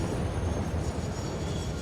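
Steady low rumble of a train rolling along its track in the factory-building game Satisfactory, a continuous mechanical drone with no pauses and no voices.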